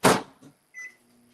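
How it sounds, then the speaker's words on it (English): A microwave oven set to defrost gives a sharp door thump followed by a short electronic beep and a faint hum, all brief and close by. "In a pinch, you can defrost in your microwave, all right?"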